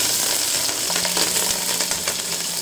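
Mustard seeds and green chillies sizzle and crackle steadily in hot oil for a jackfruit sabzi, a close, continuous frying hiss with scattered small pops throughout.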